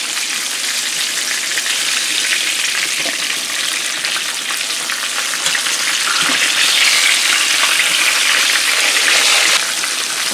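Pork chops dipped in seasoned flour pan-fry with a loud, steady, hissing sizzle that holds evenly throughout, with no voices.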